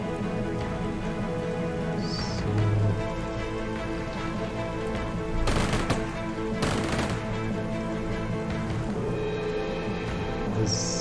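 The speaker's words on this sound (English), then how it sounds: "now we can start firing on these guys as well" A couple of distant gunfire bursts break through a steady rain-like wash of ambient battle noise in Strategic Mind: Fight for Freedom, a strategy war game.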